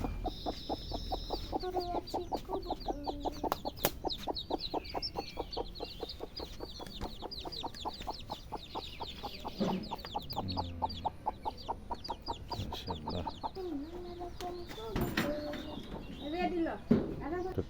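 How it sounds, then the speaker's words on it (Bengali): Domestic country chickens, hens and a rooster, cluck steadily and repeatedly close by in a home courtyard, a dense run of short calls lasting throughout with some louder squawks near the end. "দেশি মোরগ মুরগি"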